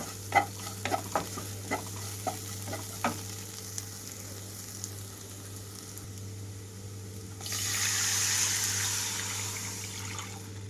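Water hits hot fried spices in a pan for a pepper rasam, giving a few sharp taps and stirring scrapes, then a steady, loud hiss of sizzling near the end.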